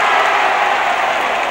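A stadium crowd of about 25,000 at Lang Park applauds a Queensland goal kick in a 1971 Queensland versus New South Wales rugby league match, a broad steady roar of clapping heard at a distance.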